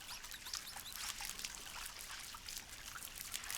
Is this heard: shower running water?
yes